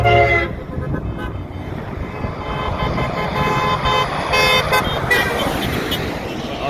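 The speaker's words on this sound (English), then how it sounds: "There's me honking right there." A car horn honks amid a road convoy heading toward DC, tooting over steady loud engine and traffic rumble, with voices talking nearby.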